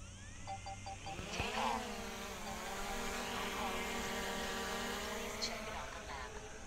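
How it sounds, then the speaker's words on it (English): A DJI Mini 3 Pro drone gives a few short beeps, then its propellers spin up for auto takeoff into a steady, close, rising buzzing whine that holds as it flies, with a voice heard faintly. "I'm going to get the drone off the ground first."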